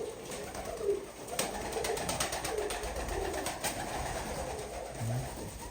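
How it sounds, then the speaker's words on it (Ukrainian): Show pigeons coo softly and repeatedly, low rolling calls against a steady background hum, with a few rustles and taps. "голуби."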